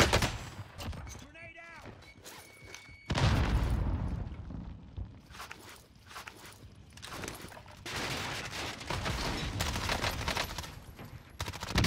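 Grenades and gunfire in Modern Warfare Warzone, with a heavy boom, rattling bursts of shots and rumbling blasts at varying distances, with voices talking in between.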